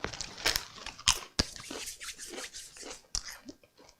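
Crisps crunched right up against a microphone, several sharp loud crunches and crackles in an uneven rhythm, with chewing and rustling between them.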